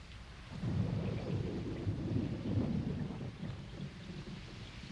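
Thunder rumbles low and continuous over steady rain in a cartoon storm, a sustained loud roll with no voices.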